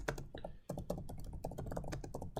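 Quick typing on a computer keyboard while entering values in Revit, a dense patter of close, soft clicks with one short gap, alone without talk.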